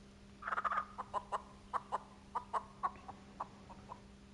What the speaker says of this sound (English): used real chickens for the audio